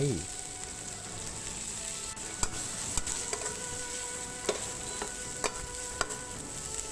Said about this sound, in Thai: ตามด้วยกระหล่ำปลี แล้วก็ผัดให้เข้ากันครับ